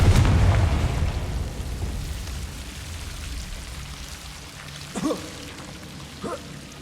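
A deep booming blast opens, a Confringo spell explosion in the game Hogwarts Legacy, then rumbles and fades into a dull roar, with two brief quieter thuds following later.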